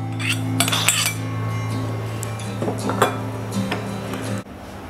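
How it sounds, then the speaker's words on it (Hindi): A spoon scrapes and clinks in a bowl while boiled potatoes and onion are mixed together, producing repeated close metallic clatter over a steady low kitchen hum, with no talk. "अब ये सब हम मिक्स करेंगे।"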